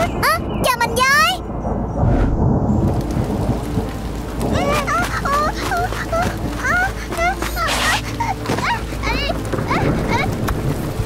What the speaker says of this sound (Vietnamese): trời mưa rồi, mình về nhà đi